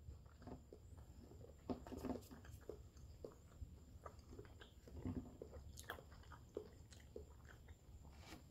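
Someone chews tender Carolina Reaper beef jerky close up, soft quiet bites and moist mastication repeating irregularly over several seconds.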